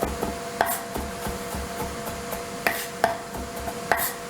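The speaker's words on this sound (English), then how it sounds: "chopping up your own pickles" Sharp knife chops land on a board cutting pickles in an uneven rhythm, some crisp and louder, others soft, with a low steady hum underneath.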